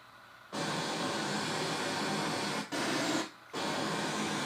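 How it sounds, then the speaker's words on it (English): Test tone from a surround back speaker during level calibration of a 7.2.4 Dolby Atmos system with a Dynasty ProAudio surround kit: broad hissing noise bursts, a long steady one, then a short one and another after brief gaps. "I can play a test tone. So I can see if I'm getting sound from the surround back speaker"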